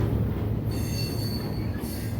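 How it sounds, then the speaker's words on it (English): A freight train creeps slowly past on the tracks, its continuous rumble close and steady with long metallic wheel squeals drawn out over the rolling noise. "Like as it comes by, it's just barely creeping at first."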